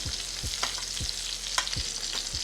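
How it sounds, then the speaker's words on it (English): A steak sizzles steadily in a hot skillet while being spoon-basted with garlic brown butter, a constant bright fry broken by several soft scraping knocks of the spoon against the pan. "Tilt the skillet towards you. Use your spoon and baste until your heart is content"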